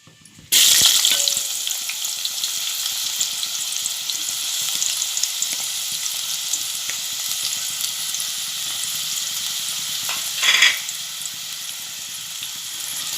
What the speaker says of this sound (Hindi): अब मैं उसमें प्याज डालूँगी।